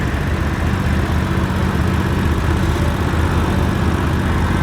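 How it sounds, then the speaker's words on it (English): A John Deere 420 lawnmower engine idling at an antique tractor show, a steady low rumbling drone that holds constant and loud throughout, with no voices. "And here we have a 420 John Deere lawnmower."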